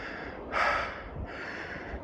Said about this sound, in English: Sorry if I'm breathing heavily.